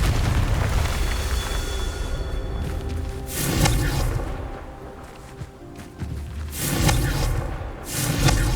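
Confringo blasting spell in Hogwarts Legacy going off as several booming, rumbling explosions, loud bursts recurring a few seconds apart over a low, continuous game background.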